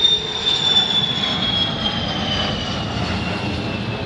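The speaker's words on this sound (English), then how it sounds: "Maybe the jet will be in the shot." A jet airplane passes overhead above a residential neighborhood, a loud, steady engine roar with a high whine that slowly fades slightly, with no talking.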